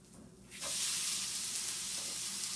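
After a brief quiet moment, a just-flipped okonomiyaki with bacon hits the hot griddle and bursts into a loud, broad sizzle that holds steady and close to the end, with no talking.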